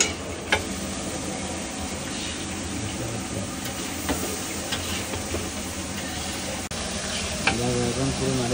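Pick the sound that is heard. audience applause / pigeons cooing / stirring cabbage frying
stirring cabbage frying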